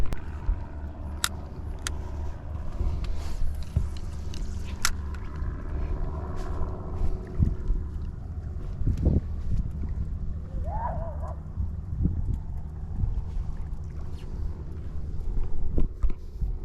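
A motorboat engine drones at a distance, rumbling low and steady beneath wind noise as it passes by over the water.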